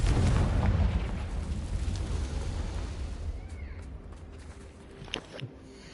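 A Confringo fire-blast spell in Hogwarts Legacy goes off with a heavy booming blast at the start, then rumbles away into quieter game ambience with small pops later.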